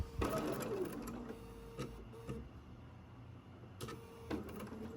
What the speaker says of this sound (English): And you can see I'm sewing right directly onto it.